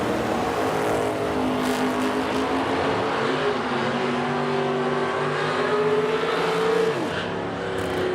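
A 1956 Chevrolet drag car launches down the strip at a drag racing event in Edmonton, its engine roaring loudly and climbing in pitch through the run before cutting off near the end.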